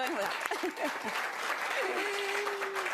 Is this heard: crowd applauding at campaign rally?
yes